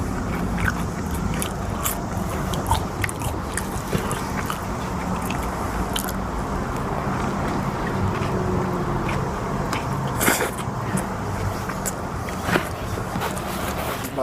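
Someone is chewing and crunching french fries close up, with steady biting and mastication noises running for the whole stretch and no talking.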